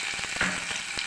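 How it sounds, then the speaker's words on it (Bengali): Ginger paste dropped into hot oil, a short bright close sizzle with a few soft stirring knocks, steady and unbroken, without speech. "এবার গরম তেলে আমরা আদা বাটা দিয়ে দেব।"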